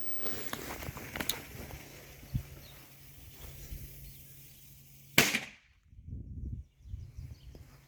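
A small store-bought firecracker goes off with a single sharp, loud bang after several seconds of outdoor rustling and shuffling, followed by near silence and faint movement.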